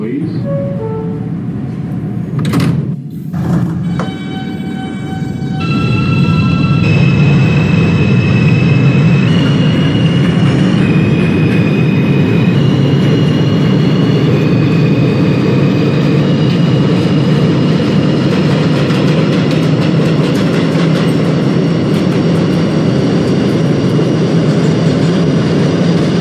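R160 subway train on a Brooklyn-bound A express in the OpenBVE simulator game, a steady loud rumble of wheels and motors with rising whining tones as it accelerates, after a brief sharp burst near the start.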